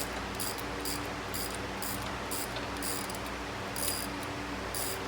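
A ratchet tightens the spindle bolts on a car's independent front suspension. It gives a steady run of quick, evenly spaced clicking strokes at close range over a constant background hum, with no talking.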